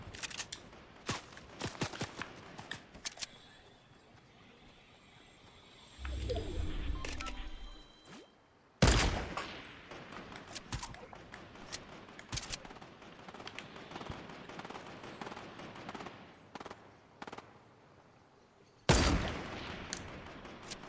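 Sniper rifle shots in the video game Fortnite: two loud, sharp cracks about ten seconds apart, with fainter clicks and distant pops in between.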